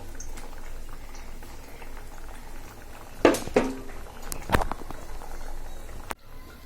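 Dal (lentils) bubbling at a full boil in a cooking pot, a steady low simmering patter with a few louder pops and clinks midway, no talking.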